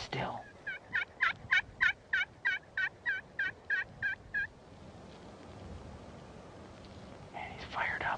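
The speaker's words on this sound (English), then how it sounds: "The birds were in there, and we had a good time gobbling hard, strutting, spitting, and drumming" Wild turkey gobbles outdoors, a rapid burst of about a dozen rattling calls a few seconds long, followed by quiet rustling and a faint second call at the end.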